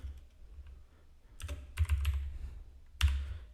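Computer keyboard keys being pressed to enter an Excel Ctrl+E Flash Fill shortcut, a few soft taps at first followed by a cluster of clicks and a final distinct key press, close and quiet with no talking.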